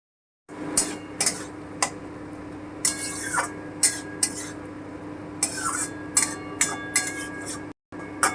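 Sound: stirring vegetables with green chili paste in a pan

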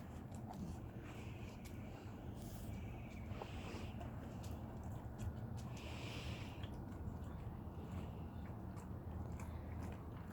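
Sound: Labrador retrievers chewing snack treats

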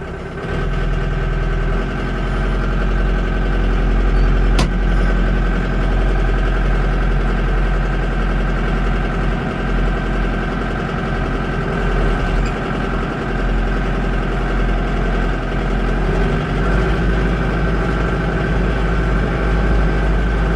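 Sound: tractor engine idling

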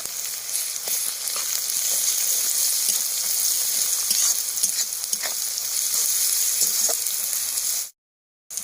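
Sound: onion and garlic paste frying in pan

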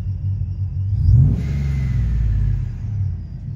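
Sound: supercharged TorqStorm Ram truck revving, blow off valve

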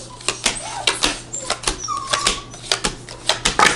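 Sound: puppies whimpering

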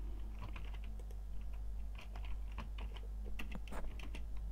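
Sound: typing a formula on a computer keyboard

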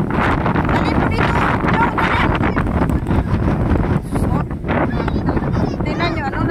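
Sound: strong wind

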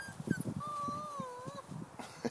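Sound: dog whimpering after being stepped on

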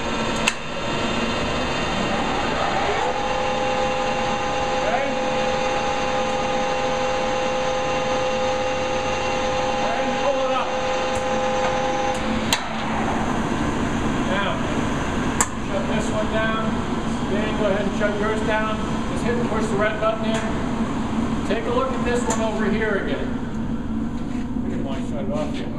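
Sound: metal lathe spindle spinning

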